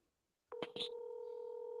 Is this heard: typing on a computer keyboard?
no